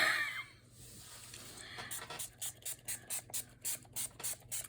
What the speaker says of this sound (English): now I'm spraying water on my paper because wet on wet blends